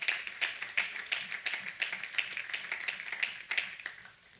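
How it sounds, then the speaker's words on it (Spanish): A church congregation claps together during a Sunday morning service, a fairly quiet, steady patter of hands with regular accents and no voices over it. "Den un aplauso al Señor esta mañana."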